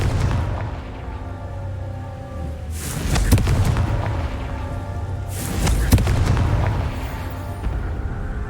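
Two booming Confringo spell blasts go off a few seconds apart in a Harry Potter video game. Each is a loud, sharp crack followed by a rumbling tail, over a steady low ambient hum.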